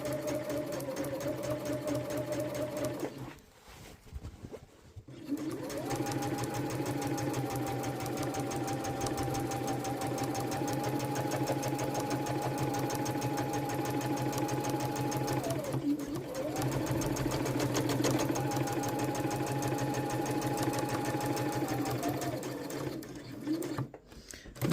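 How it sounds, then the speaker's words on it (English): A sewing machine stitches a beach bag, its needle running in long steady buzzing bursts with a brief pause and restart partway through, close and loud with no voices. "So I'm going to do a back stitch in that corner, and then up again, turn again, and then down the other side."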